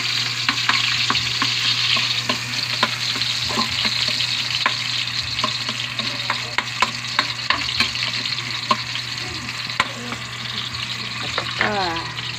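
Onions sautéing in a pan as a steady close sizzle, with frequent ticks and scrapes of a stirring utensil throughout and a faint voice near the end.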